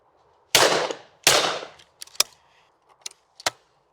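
Two loud, close shotgun blasts at clay targets from a budget Winchester shotgun on an outdoor range, each with a short decaying tail, followed by sharp clicks and clacks of the gun's action.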